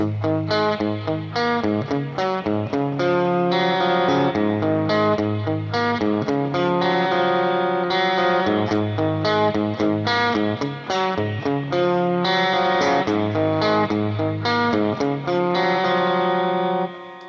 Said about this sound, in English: I've just got a little delay and reverb going tonight with some distortion